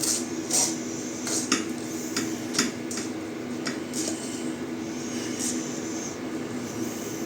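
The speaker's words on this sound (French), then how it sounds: "Alors je mets les macaronis dans un plat adapté au four." Cooked macaroni tipped and spooned into an oven dish for mac and cheese, with scattered light clinks and scrapes of utensil on dish over a steady kitchen hum.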